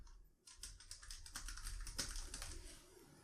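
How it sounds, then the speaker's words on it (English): A username and password are typed on a computer keyboard: a dense, steady run of close key clicks and taps with no voices, starting after a short pause. "type in my username and password"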